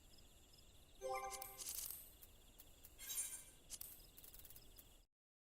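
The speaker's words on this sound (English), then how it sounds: "I hear the crickets in the game." Crickets chirping in a video game, a steady high trill running throughout at moderate level, joined by brief louder game effects and chimes near the start and middle before cutting to silence.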